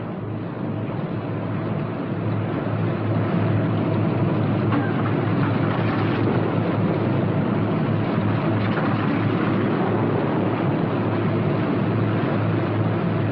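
Left engine of a P-61 Black Widow running at a steady idle after start, a loud continuous drone with a low throbbing hum, close and unbroken throughout.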